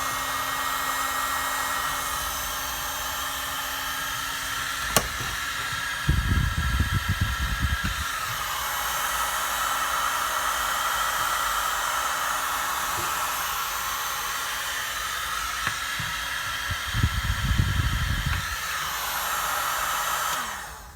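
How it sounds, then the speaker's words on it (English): A heat gun blows continuously and loudly while shrinking heat shrink tubing on the wiring of a 1989 Honda Shadow motorcycle, a steady roaring hiss lasting the whole stretch, with two brief low rumbles mixed in. "I'm just going to grab my heat gun and heat it up"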